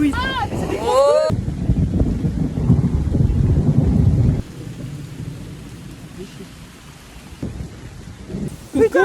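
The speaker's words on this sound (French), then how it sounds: "Il pleut, il mouille." Heavy tropical rain pours down outdoors in Cairns, Australia, with deep rolling thunder rumbling loudly through the first few seconds, then easing to a steady, softer downpour with a faint hiss of wind.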